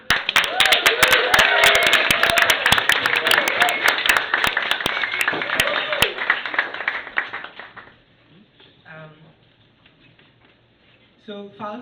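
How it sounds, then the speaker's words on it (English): A small audience at a house concert in West Philly claps for the band, sharp close individual claps that pile into lively applause, then thin out and stop after about eight seconds, followed by quiet murmuring voices. "Big round of applause."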